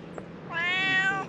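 A small cat housed in a little tent outdoors gives a single clear, close meow lasting under a second, rising then falling, with no talk over it.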